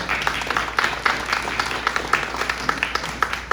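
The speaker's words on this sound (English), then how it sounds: "You can clap for" Audience applause at the Pax Christi New York Peacemaker Awards celebration, a crowd clapping steadily at moderate loudness, brief and unbroken, with no speech over it.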